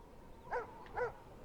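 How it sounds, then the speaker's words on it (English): Ethereal dog barking in the Life is Strange video game, two soft, distant barks about half a second apart over a faint background hum. "I hear the dog."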